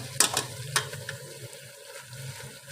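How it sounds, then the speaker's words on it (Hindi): Fresh spinach tipped into a pot of sizzling beef for palak gosht, giving a couple of sharp crackling bursts at the start, then a steady low sizzle with stirring scrapes as it settles. "अब हम डालेंगे पालक।"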